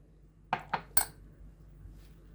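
A utensil knocks three quick times against a bowl while seasoned chicken wings are mixed with garlic powder, black pepper and salt, close and clear against a quiet room.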